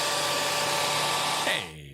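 A radio broadcast plays a hair dryer blowing loudly and steadily, then cuts off with a short whine as it shuts down near the end.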